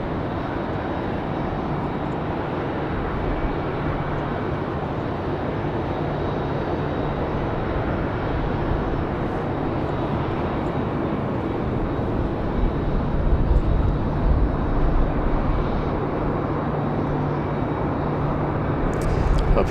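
Airbus A319 airliner from Boston on runway 23 right at Raleigh-Durham airport, a steady loud engine roar holding for the full stretch and swelling slightly toward the end, no talk.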